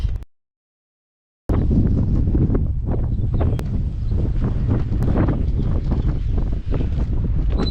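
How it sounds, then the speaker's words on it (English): Steady, loud wind buffets the microphone on a spring day at Coral Pink Sand Dunes, a constant roaring rumble with gusty swells, after a brief moment of silence at the start. "it's a windy spring day here"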